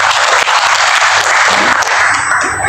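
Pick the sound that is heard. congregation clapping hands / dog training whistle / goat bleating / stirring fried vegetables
congregation clapping hands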